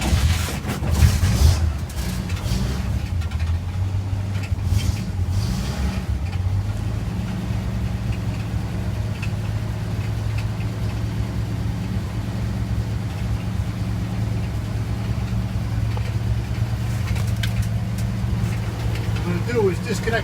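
A 1947 GMC truck engine idles steadily after being started with a little gas and choke, and it keeps running with the battery disconnected. It gives a continuous low, even rumble close by, while someone talks over it at times.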